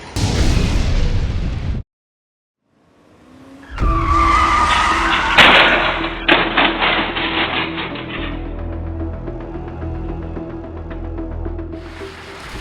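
A red car speeds up on a wet road and then skids out of control, with loud tire screech, impacts and clattering debris following a brief silence. The noisy crash rings out for several seconds.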